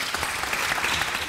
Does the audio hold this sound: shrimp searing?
no